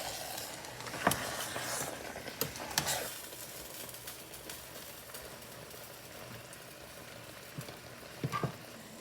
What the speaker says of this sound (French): Je vais remuer ça, le tout.